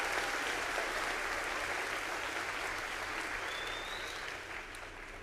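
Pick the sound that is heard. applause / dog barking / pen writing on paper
applause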